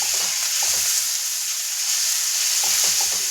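Turmeric sizzles as it is sautéed in a pan while a Khandeshi brinjal bharit is cooked. A loud, continuous hiss of frying carries a few faint spoon or pan clinks, and no one speaks.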